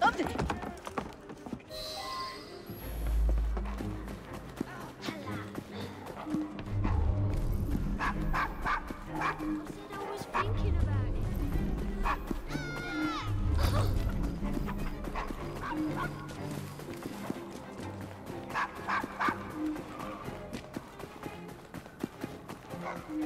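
Dog barks in Assassin's Creed: Syndicate, a few short barks scattered through a busy game scene with hoofbeats, background bustle and people talking over it.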